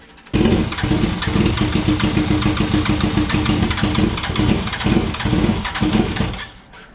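An old vehicle engine, run on two-year-old fuel, cranks and catches, then runs at a rough, loud idle close by before cutting off.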